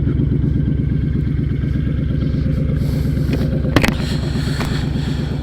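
A 2006 Honda VTX1300 motorcycle idles in neutral when fully warmed up, with a loud, close, steady low rhythmic engine throb throughout and a single sharp clack partway through.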